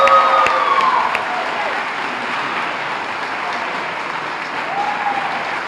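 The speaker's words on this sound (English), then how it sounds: "And again, a round of applause for Charlie here." A high school senior awards night crowd breaks into loud applause for an honoree, with a few whistles at the start, then a sustained even roar of many hands clapping that eases slightly after the first second.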